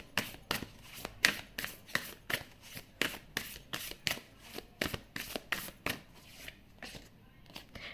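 A deck of tarot cards is shuffled up close in a steady, rapid rhythm of riffles and slaps, about two per second, with soft talking mixed in underneath.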